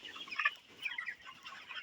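Broiler chickens on a poultry farm cluck and chatter in short bursts as they rush toward feed, several birds close by but fairly quiet, with no talking.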